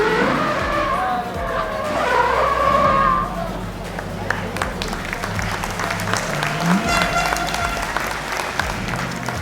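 A car drifts at a drift competition, its engine revving hard and tires squealing through long slides, with crowd noise and cheering running underneath.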